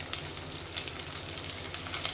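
Onions and curry leaves fry in a pan with a dense, continuous sizzle, close and steady, crackling throughout with no voices.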